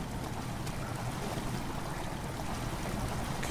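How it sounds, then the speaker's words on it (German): Water flowing slowly into a chamber in Amnesia: The Dark Descent, a steady low rushing wash that holds an even level for a few seconds, moderately quiet, with no talking. "Wasser tritt langsam in die Kammer ein."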